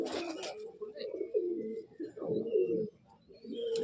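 Pigeons of show breeds in a loft give low, throaty coos in short repeated bursts, close and fairly clear, with faint bird chirps behind.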